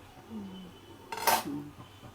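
A pot lid is set down on a cooking pan with one brief metallic clink and clatter, close and clear against a quiet kitchen with a faint voice in the background.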